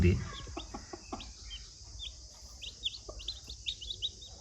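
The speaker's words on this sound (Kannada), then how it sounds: "ಒಂದು ನೆಕ್ಕಿಡ್ ನೆಕ್ಕು ಕೋಳಿ" A naked neck hen clucks low and close while several chicks peep in quick, high chirps, scattered and overlapping throughout.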